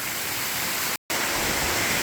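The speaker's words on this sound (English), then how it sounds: "There's a lot of water coming down there." Large waterfall near Pigeon Forge and Gatlinburg, Tennessee, a steady broadband roar of heavy falling water, loud and close, with a brief cut to silence midway.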